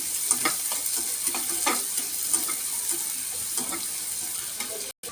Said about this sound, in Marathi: आणि चांगला परतून घेऊ कांदा